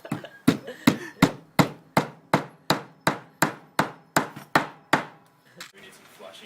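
A hammer drives a screw into a plastic panel standing in for window glass, giving about fifteen crisp, steady blows in a fast even rhythm, close and loud, trailing off into light handling noise.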